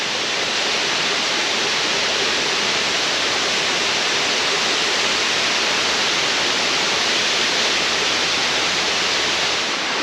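Powerful waterfall at Plitvice Lakes National Park, a steady, dense roar of falling water that holds loud and unbroken throughout, with no voices.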